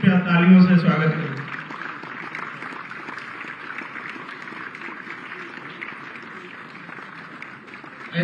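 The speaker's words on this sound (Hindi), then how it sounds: "कृपया तालियों से स्वागत करें।" An audience applauds a welcome at a hostel ground-breaking ceremony. A voice speaks briefly at the start, then a steady wash of moderate clapping continues for about seven seconds.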